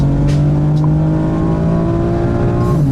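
BMW M4 Competition accelerating on the Le Castellet circuit, heard from inside the car as a loud, steady engine drone rising slightly in pitch, with brief higher whooshes over the roar.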